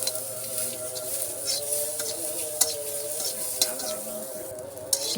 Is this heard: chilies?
yes